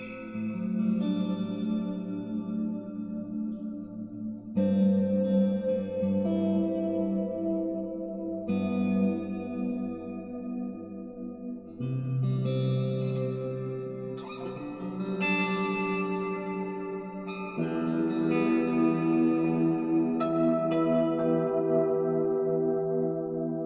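An electric guitar played through an Xvive Maxverb reverb pedal swells into layered, sustained chords with long, churchy ambient tails, each new chord blooming over the decaying wash of the previous one.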